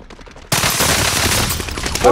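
Sustained, loud rapid gunfire in a first-person multiplayer shooter game, bursting in abruptly after a quiet start and continuing as a dense, unbroken barrage close by.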